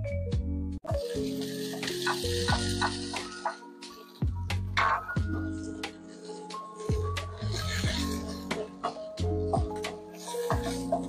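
Pork pieces sizzle in a pan, sautéed as the aromatic base for a stir-fry of string beans, with steady frying hiss broken by repeated clatters and scrapes of stirring and a low hum underneath throughout.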